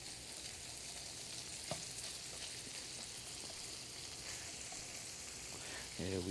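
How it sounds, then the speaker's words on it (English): Shrimp searing in a pan for one-pan pasta, a quiet, constant sizzle with a few light clinks and a brief louder crackle at the end. "Now you're starting to see our shrimp swell up. You get a nice sear on each side."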